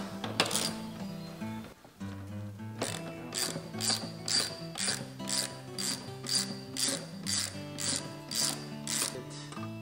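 A ratchet wrench loosens bolts on Cessna 140 shock mounts, with close, loud, rapid clicking in a steady back-and-forth rhythm of repeated strokes after a brief pause near the start.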